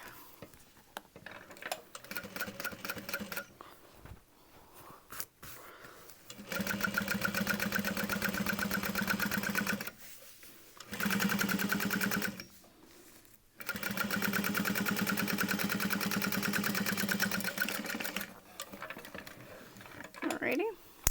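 A sewing machine stitches across a leather bag seam, its motor whirring in several sustained runs separated by short pauses, close and fairly loud, with brief quieter handling between bursts.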